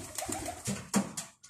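Young pigeons at a Rizal-area loft give several soft, low coos in quick succession, close by and fairly quiet, with no talking.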